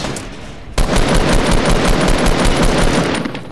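Automatic gunfire in Fortnite Battle Royale erupts suddenly after a short pause, then rattles on as one loud, rapid, unbroken burst until it ends.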